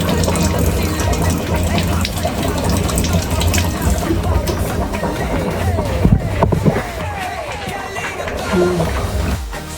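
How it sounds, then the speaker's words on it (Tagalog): Tomatoes washed under a running tap, a continuous close rush and splash of water with people talking over it. "So, hugasan ko yung kamatis."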